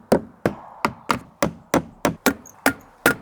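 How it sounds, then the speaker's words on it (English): A hammer strikes nails into OSB board in about ten sharp, evenly spaced blows, close and loud, each hit ringing briefly before the next. "I'm going to hammer that in just using a couple of nails"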